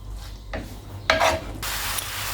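A utensil stirs onion and pepper in a pan: short scraping rubs and a brief louder rasping pass, then a steady soft sizzling hiss. Nobody speaks.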